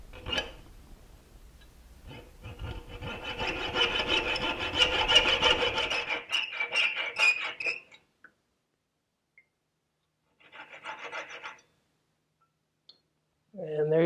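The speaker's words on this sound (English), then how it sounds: "pick how much you want to saw away." A hand saw cuts a piece of silver clamped in a vise, a steady close rasping back-and-forth for several seconds, then stops, followed by a brief second burst of strokes after a pause.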